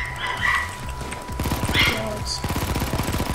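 Rapid bursts of automatic gunfire in the video game Payday 2 during a bank heist at ATMs, loud and close, rattling in fast runs with brief gaps, while players talk over the shooting.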